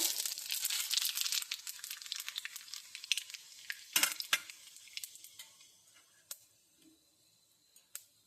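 Radhuni phoron and kalo jeere spices sizzle in hot oil for a hilsa fish curry, a close crackling fry that is busy at first and thins into scattered pops and occasional utensil clinks.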